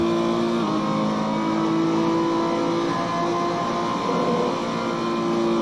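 A race car in Gran Turismo at Spa holds fifth gear at high revs, its engine a loud, sustained whine with a small dip and recovery partway through and no speech.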